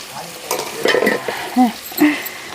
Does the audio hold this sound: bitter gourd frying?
yes